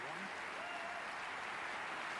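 A snooker crowd at the German Masters 2024 semi-final applauds a terrific shot: steady, dense clapping from a large audience, faint and distant.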